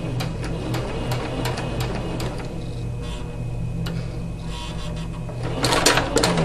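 A sewing machine stitching fabric to the edge runs steadily nearby with a rapid mechanical clatter, ending in a brief louder burst, with no talk over it.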